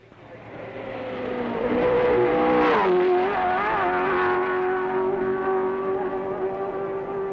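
A 1967 Formula 1 race car at the Nürburgring sweeps down the straight for the last time, its engine note swelling to a loud peak midway and then holding a steady high drone as it carries on.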